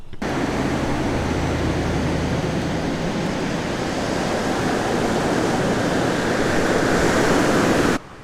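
A continuous broad roar of ocean surf rolls on at Rainbow Beach in Queensland, steady and fairly loud throughout before cutting off abruptly at the end.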